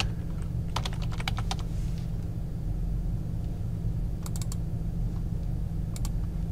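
Quick clusters of keystrokes on a computer keyboard, close and crisp, come in three short bursts over a constant low rumble.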